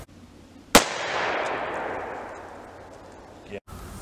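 A single loud shotgun blast firing a slug through a muzzle brake, a sharp report followed by a long decaying outdoor echo and rumble over about three seconds.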